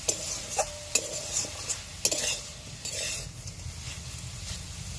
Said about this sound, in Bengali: উচ্ছেটা দিয়ে এর সাথে মিশিয়ে দেবো, একবার নাড়াচাড়া করে দেবো